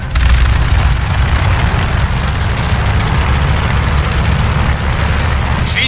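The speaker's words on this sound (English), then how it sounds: "All right, do an engine run-up" Aircraft engine run-up in the video game Call of Duty Vanguard: a loud, steady low roar with dense rumbling and crackle that holds constant for about six seconds.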